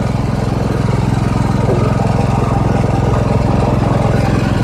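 A small motorbike engine with stock exhaust, before being straight piped, runs at a steady idle, a close, loud, even low throb with no speech.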